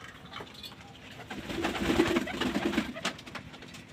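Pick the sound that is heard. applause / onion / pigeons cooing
pigeons cooing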